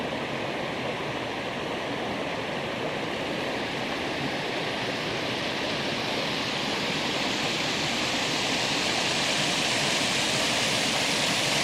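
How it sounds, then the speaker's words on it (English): The North Fork of Quantico Creek in Prince William Forest rushes in a steady, even wash of flowing water, unbroken and alone, with no voices. "this is the North Fork of Quantico Creek."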